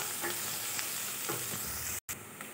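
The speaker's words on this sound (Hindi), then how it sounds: "1 कटा हुआ हमने प्याज लिया था, इसे सुनहरा कलर आने तक हम अच्छी तरह से भून लेंगे।" Chopped onion frying in a pan for a moong dal, a steady close sizzle and crackle with faint stirring scrapes throughout, broken by a brief cut near the end.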